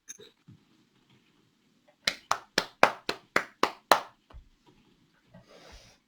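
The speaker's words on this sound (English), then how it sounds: "You got my applause." Claps in a board meeting room: a short burst of about seven sharp, evenly spaced handclaps, close and loud, from what sounds like a single person, with faint sounds before and after.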